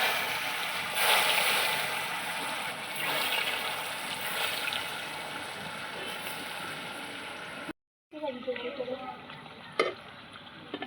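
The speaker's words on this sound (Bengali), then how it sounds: "এই যে এবারে আমি আলুগুলো ভেজে নেব" Potatoes fry in a pan with a steady broadband sizzle and scattered crackles. Near the end the frying briefly cuts out, then returns lighter with clinks and stirring noises.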